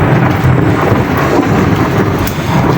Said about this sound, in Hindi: गरज चमक हो रही है और बारिश देखें कैसी हो रही है।